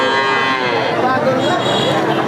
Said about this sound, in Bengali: অনেক সুন্দর একটা বকনা বাছুর